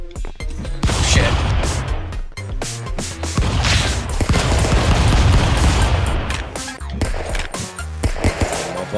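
Rapid gunfire bursts from the stick-figure brawler game Stick Fight crackle loudly and almost continuously, dense shots stacking over a booming low rumble with brief gaps near the end.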